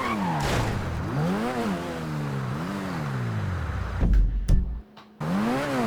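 In GTA V, a car races along at high speed, its engine whining up and down through repeated rev swells. Near the end it gives a brief rumbling thump and a moment of near silence, then the engine drone resumes.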